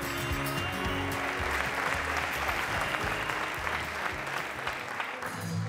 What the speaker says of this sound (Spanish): Si me permites, un aplauso.